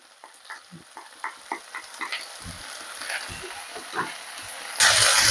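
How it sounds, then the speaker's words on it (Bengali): Tomato and crushed green chillies fry in a pan for a tomato potato pulao, giving soft sizzling with repeated spatula taps and scrapes, close and moderately loud, ending in a sudden burst of stronger hiss. "টমেটোটা 1-2 মিনিট ভেজে নেওয়ার পরেই দিয়ে দিচ্ছি 2টো কাঁচা লঙ্কা"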